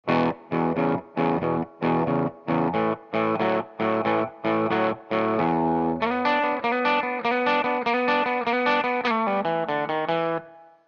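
Distorted electric guitar plays a chopped, evenly pulsing blues chord rhythm, then shifts into busier sustained riffing; close and loud, no voices.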